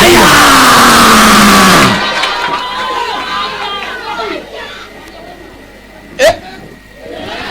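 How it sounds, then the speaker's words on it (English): A church congregation at a restoration service clapping and shouting together, a loud dense burst of crowd noise that cuts off after about two seconds, leaving quieter murmuring voices and a single sharp shout near the end. "Somebody clap your hands and shout and say fire."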